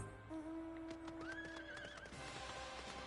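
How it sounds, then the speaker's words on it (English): A fire horse mount in Final Fantasy XIV gives a single clear whinny, rising and then falling, over soft hoof clops and game sounds, close and fairly quiet. "Being my terrifying fire horse."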